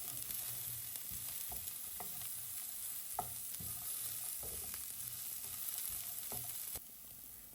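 Beans stir-fried with onion in a pan for chicken fried rice, a steady sizzle with repeated scraping and stirring clinks, close and continuous without speech.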